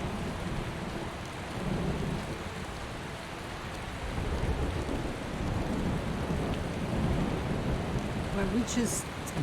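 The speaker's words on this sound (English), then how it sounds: "Don't you just love a bit of rain?" Steady rain with low rumbling thunder in the Skyrim video game, a continuous broadband downpour across the whole stretch, close and fairly loud, with faint bright drips near the end.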